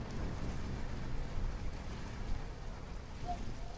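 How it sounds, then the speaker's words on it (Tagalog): Wind and waves on the shore at Morong, Bataan, around sunset, make a steady, even rushing noise with no distinct breaking waves. "dito ingay ko lang pagaspas ng alon tsaka ng hangin"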